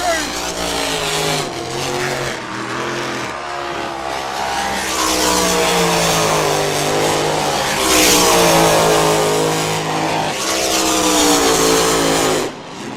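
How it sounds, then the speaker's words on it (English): Racing powerboat engines roar loudly and continuously on the Dargle River, pitch rising and falling as boats accelerate past, with a commentator talking over the noise. "these boats sound awesome on the shores of the Dargle River"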